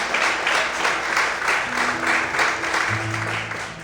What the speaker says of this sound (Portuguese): Você pode aplaudir ao Senhor nessa manhã?